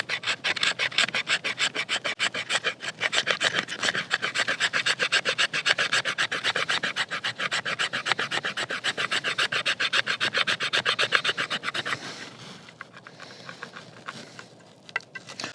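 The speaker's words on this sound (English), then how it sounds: "We're going to see how well it'll do a scraping on the fat wood" The spine of a DEMKO FreeReign drop-point fixed-blade knife scrapes fatwood in fast, steady, rasping strokes, loud and close, for about twelve seconds before slowing and fading into softer scratching.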